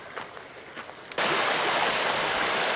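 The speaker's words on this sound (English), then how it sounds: "Second big stream crossing of the day" A big stream at a wilderness crossing in Dolly Sods, West Virginia rushes loudly, a constant broadband roar that jumps suddenly nearer and fuller partway through, with no voices.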